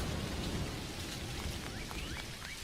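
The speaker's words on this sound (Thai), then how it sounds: "ฟ้าผ่าลงมาก็คือตกใจอะไรวะ" Steady rain with low rumbling thunder, heard as constant hiss from a stormy scene in the video game Dinkum, with no voices.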